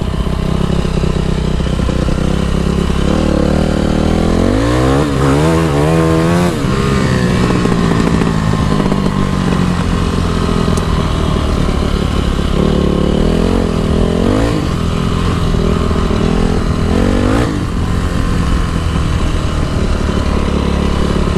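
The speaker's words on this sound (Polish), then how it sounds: "strasznie z wydechu strzela" A Yamaha YZF 450 motorcycle engine revs hard and continuously up close, with repeated rising throttle blips and popping backfires from the exhaust, likely due to a leaking exhaust manifold gasket.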